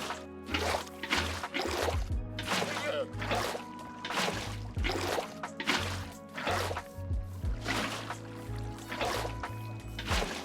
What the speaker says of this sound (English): let's fill these rows with water.